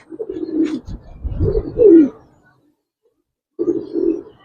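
A female pigeon, a Giribaz-type fancy bird, gives low, throaty coos in two bursts separated by a silent gap, close and moderately loud.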